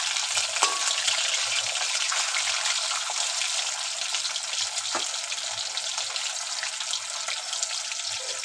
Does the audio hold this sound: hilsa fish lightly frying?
yes